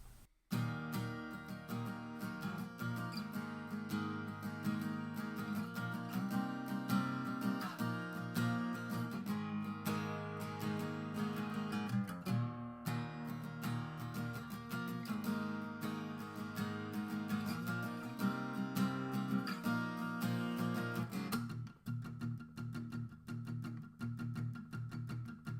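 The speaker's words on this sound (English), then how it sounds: "now the strum part of the intro sounds like this." Electric guitar strumming the intro of a song with power chords, dense sustained chords played steadily and loud, then a brief quieter ringing tail at the end, no voice.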